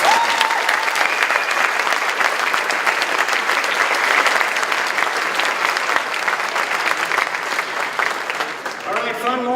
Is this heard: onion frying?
no